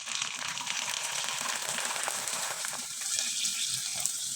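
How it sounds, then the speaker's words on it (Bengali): Rice papad puffing as it fries in hot oil in a wok, a steady broadband crackling sizzle with scattered pops, close and continuous throughout with no voices. "এখন আপনাদের কয়েকটা আমি ভেজে দেখিয়ে দিচ্ছি।"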